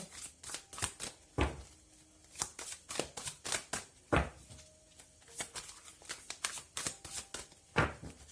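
Tarot cards are shuffled repeatedly in a quiet room. Soft, crisp riffles and slaps of the cards come up close in an irregular rhythm, and no one speaks.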